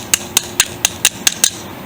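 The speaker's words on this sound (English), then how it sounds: "Since you got to pound it in a little bit, just gently. Probably don't need a big hammer" A hammer taps a Toyota pickup's e-brake cable into place with seven light, evenly spaced metallic strikes in under two seconds, close and crisp with no talking.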